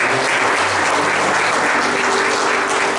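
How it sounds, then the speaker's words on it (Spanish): A church congregation bursts into dense, steady applause, many hands clapping at once in a full, even roar that fills the room for a few seconds without a break. "Haz una ofrenda de palmas a Dios."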